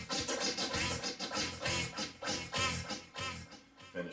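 Turntable scratching over a hip hop beat, with rapid back-and-forth scratches riding on steady drum hits, loud, dense and close with no voices.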